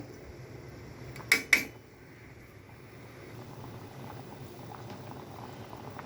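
Beef and bottle gourd curry boiling in a pot, a low steady bubbling simmer close by, broken early by two sharp metallic clinks of a utensil against the pan.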